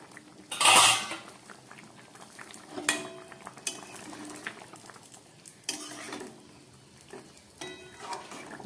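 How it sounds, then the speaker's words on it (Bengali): Metal pot lid lifted off a simmering pot of katla fish curry with ridge gourd and potatoes on a very low gas flame, a sharp clang followed by scattered clinks of utensils and a faint bubbling underneath. "ঢাকাটা খুলছি, গ্যাস একদম কম করা।"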